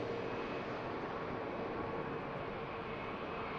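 An Icemax airliner departing Manchester Airport, a steady broadband jet roar heard from a distance, even in loudness throughout with no talking.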